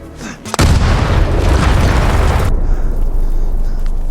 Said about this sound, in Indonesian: Philip meminta agar Michael yang meledakkan ranjau tersebut